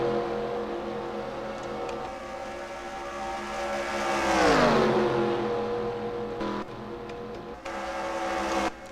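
NASCAR stock cars racing in the NASCAR Racing 2003 game, a sustained engine drone with a loud car sweeping past midway, its pitch dropping, then the steady roar continuing.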